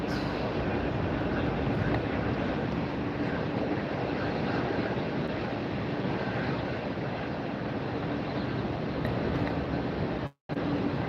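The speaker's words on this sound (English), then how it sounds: "that's going to be Southwest Flight 580 coming in from San Diego, a 737 MAX 8" A Southwest Boeing 737 MAX 8 airliner arriving at Tampa airport gives a loud, steady broadband jet roar, continuous and fairly near, with gusty wind noise mixed in.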